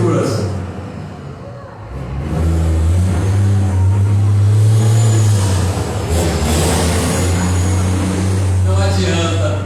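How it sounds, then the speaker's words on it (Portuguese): Motor traffic such as motorcycles, trucks and semi-trailers passing on a street, a steady loud low engine rumble and rev running throughout behind someone talking. "Pode passar moto, pode passar caminhão, carreta, o que for."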